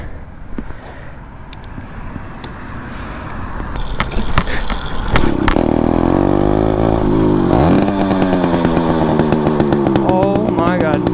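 A motorized bicycle's small two-stroke engine sputters and then catches after sitting for about three weeks, settling into a loud, raspy idle and revving with rising and falling pitch, up close and dominating the sound.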